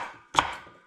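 One sharp knife chop through rhubarb on a cutting board, a single close, crisp thud that fades quickly into a quiet room.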